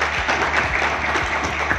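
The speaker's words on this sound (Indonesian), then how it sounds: "Tepuk tangan." Applause from an audience at an accreditation visit event, a steady wash of many hands clapping together, fairly loud and even throughout with no voices over it.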